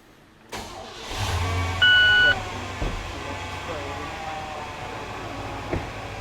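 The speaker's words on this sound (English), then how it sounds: "Let me start it up." A service truck's engine cranks and catches, then settles into a steady low idle that runs throughout, with a brief higher tone partway in and a few knocks and clunks over it.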